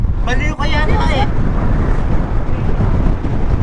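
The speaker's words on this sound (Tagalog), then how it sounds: "Grabe, lakas ang hangin." Strong wind buffets the microphone on a road trip along the Goa-Tinambac Road in Camarines Sur, a loud continuous roar, with brief shouted voices at the start.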